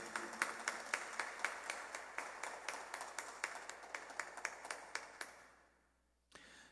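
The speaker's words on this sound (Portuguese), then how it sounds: "Vamos aplaudir a palavra de Deus." A church congregation applauds at a Mass at the Aparecida and Blessed Donizetti sanctuary in Tambaú, a steady run of sharp, evenly spaced claps in a reverberant hall that fades out near the end.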